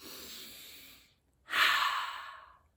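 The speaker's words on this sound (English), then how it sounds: "Take a nice big deep breath" A deep breath taken at a children's library story time: a soft airy inhale, a brief pause, then a louder, longer breathy exhale close to the microphone, with no talking.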